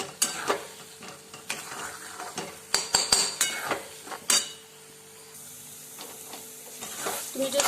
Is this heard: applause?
no